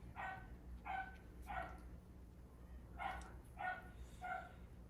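A dog barks indoors in the distance, giving six short, fairly faint barks in two groups of three with brief pauses between them, over a low background hum.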